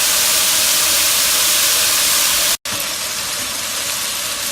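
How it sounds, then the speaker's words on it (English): Potato strips fry in a wok at high heat, giving a steady loud hiss and sizzle with one brief cut partway through and no talking. "After the potato is back in, you can raise the temperature again to the maximum and let it fry."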